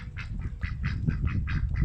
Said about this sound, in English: my duck's in there trying to get through the net